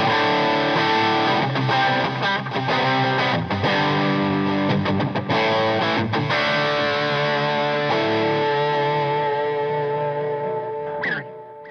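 Electric guitar played through distortion and an Xotic AC Comp compressor pedal: loud sustained chords and picked notes with a saturated, compressed tone, ringing out and fading at the end.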